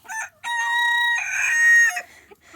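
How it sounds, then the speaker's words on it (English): Bantam chickens inside a coop, a loud close rooster crow stretched over about two seconds, led by a short cluck and trailing off into a quieter call. "So all of these are bantam chickens."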